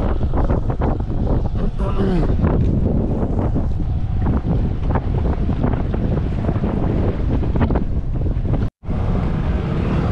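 Strong wind buffets the microphone at a fishing spot, a steady, loud roar with gusts throughout, and people talk faintly underneath.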